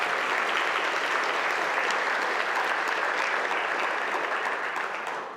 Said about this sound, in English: give all of our amazing entrepreneurs a round of applause